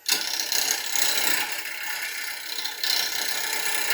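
A wood lathe spins a log blank while a gouge cuts a bowl, giving a steady, close, rasping hiss of shaving wood that swells briefly partway through and keeps going without pause.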